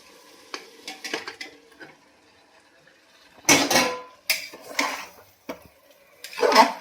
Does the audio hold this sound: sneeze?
no